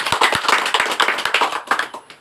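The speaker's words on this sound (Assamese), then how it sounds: "হাত চাপৰি হ'ব" An audience claps at a YouTube members' celebration after a guest is welcomed with a gamosa, giving a dense, steady patter of many hands close by, with no speech over it.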